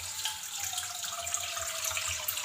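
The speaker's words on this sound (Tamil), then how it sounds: "தண்ணி சேர்த்துக்கலாம்." Water pours in a steady, close stream into a cooking pot while making Atho, a Burmese dish, with no talking over it.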